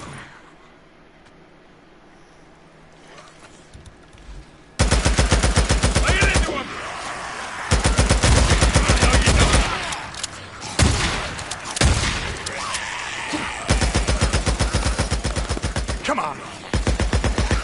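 Sustained gunfire in the zombie-survival game Days Gone: after a quiet opening, loud rapid automatic bursts rattle on in long runs with short pauses, and voices may be faintly present.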